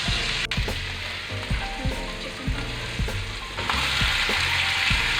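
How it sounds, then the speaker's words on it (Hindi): Ginger garlic paste fries in hot oil with a loud, continuous sizzle and crackle, broken by regular clinks and scrapes of a spoon stirring through the pan, close up and without any voices. "थोड़ा सा लहसुन अदरक का पेस्ट एक चम्मच डाल के उसमें हम भून देंगे"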